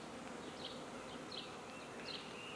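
Honey bees from a newly installed package buzz faintly around their hive, a soft continuous drone with a few wingbeat whines passing close by.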